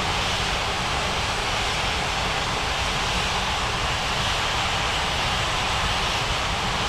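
An aircraft taxis toward the runway in the air traffic control game Unmatched Air Traffic Control, a steady, dense engine roar that stays loud and unchanging throughout, with no voices.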